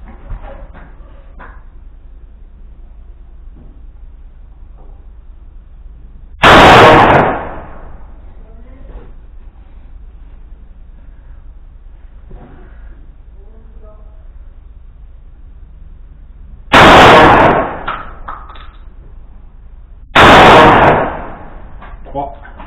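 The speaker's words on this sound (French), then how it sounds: "Allez, on repart pour un tir de 3 cartouches." Three loud slug rounds from a Verney-Carron Matrix shotgun at a shooting range: one blast, a long pause, then two more close together, each sharp and booming with a short tail, with faint background noise between.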